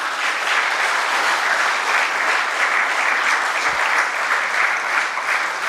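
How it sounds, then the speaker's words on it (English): Students at an MBA and BBA inauguration ceremony give themselves a big round of applause, a loud, even wash of many clapping hands that continues unbroken. "give a big round of applause for yourself for choosing"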